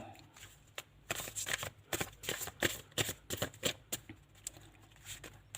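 Someone shuffles a deck of cards for a card reading, with close, crisp riffles and flicks in quick, uneven bursts throughout and no talking.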